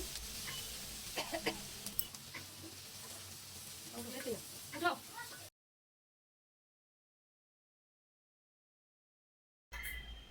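Chopped onions fry in a pan with the other ingredients for a raw taro (kachu) bharta, crackling softly with scattered stirring clicks, then cutting to silence before a brief return at the end.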